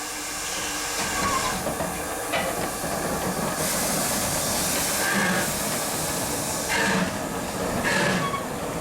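A steam train releasing steam on a heritage line in West Yorkshire, a broad continuous hiss with rumbling carriage noise, heard from a moderate distance for several seconds, with no talking.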